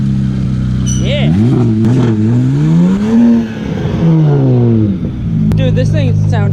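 A car engine revs in a paddock, rising and falling through several loud pitch sweeps and settling to a steady idle, with people talking nearby over it.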